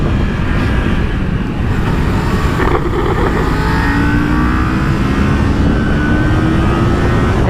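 A 2018 Kawasaki Ninja 400 ABS motorcycle accelerates hard on a racetrack, its loud, close engine note climbing steadily in pitch through the gears under rushing wind, with no speech.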